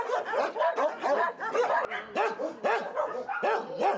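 Several dogs at an animal shelter bark repeatedly and close by, overlapping yips and barks in an echoing space, with occasional whimpers between the bursts.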